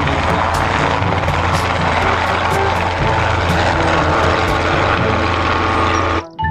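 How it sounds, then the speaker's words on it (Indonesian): A helicopter's engine and rotor give a loud, continuous whir with faint periodic blade thumps, running steadily close by before cutting off abruptly at the end. "Di sini ada helikopter."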